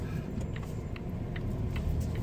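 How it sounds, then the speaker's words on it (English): Cabin rumble of a Volvo S90 on the move, a low steady road and engine drone with faint, scattered clicks and ticks above it, no talk. "we're in a Volvo V90, S90. S90, Volvo S90, which has the autonomous driving feature"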